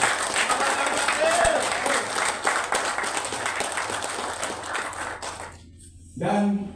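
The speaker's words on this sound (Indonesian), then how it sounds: "Kasih aplaus untuk Bapak Haji Christian Arimawan." A seated audience at an exclusive meeting of MJA founders at the Aston Lampung City Hotel applauds Haji Christian Arimawan, producing a sustained patter of many hands that fades toward the end, with a voice faintly present.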